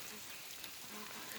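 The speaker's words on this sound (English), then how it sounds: "We've got a cold rain gonna turn to ice going on here this morning" Cold rain falls steadily on a morning homestead, a dense even hiss of drops with no pauses, continuous and moderately faint.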